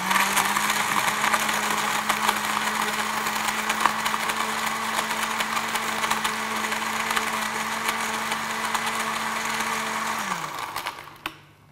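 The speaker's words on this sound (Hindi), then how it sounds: "और इन सभी चीजों को ग्राइंड कर लेते हैं, ब्लेंड कर लेते हैं, मिक्स कर लेते हैं।" Electric blender whirring steadily at high speed while blending ingredients for an orange mocktail, a continuous loud motor drone for about ten seconds before winding down and stopping.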